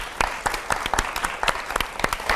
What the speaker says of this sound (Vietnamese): Mong các bạn hãy cổ vũ cho các bạn ấy một tràng pháo tay thật